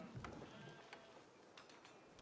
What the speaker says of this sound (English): So there's plenty of sheep on this map